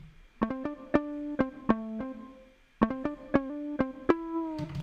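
A glitch hop synth pattern runs through a parallel-compressed mix channel with reverb feeding it, giving sharp, pumping plucked stabs in a stuttering rhythm with squashed, smeared tails.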